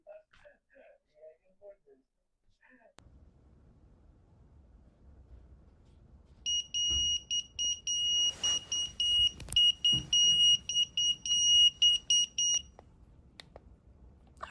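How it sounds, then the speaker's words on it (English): Hospital pager alert going off in a series of repeated high electronic beeps, loud and steady for several seconds after a quiet start, with some handling noise underneath. "Okay, the pager just went off."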